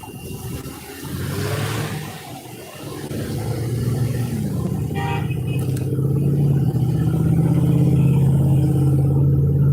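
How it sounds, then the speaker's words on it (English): Road traffic rolls past in a busy, high-traffic area of Lakewood: a low engine and tire rumble that swells and keeps building to a loud, sustained roar. "It's a high traffic area, folks."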